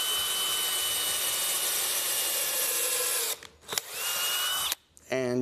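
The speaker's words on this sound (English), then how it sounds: "So we have a drill bit here with a stop collar on it." Close, loud power drill whine as it bores holes into a log for mushroom spawn inoculation, a sustained high tone running several seconds, then a short pause and a second burst before stopping.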